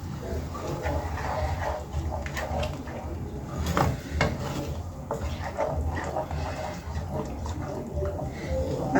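A utensil stirs honey into a chicken sauce in a metal pan, making repeated scraping and clinking strokes close by over a low sizzle.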